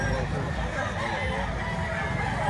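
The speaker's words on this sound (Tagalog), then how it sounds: "Maganda mga manok ito" A rooster crows at a chicken sale market in Lipa, Batangas, one loud call close by, over a steady crowd murmur and nearby voices.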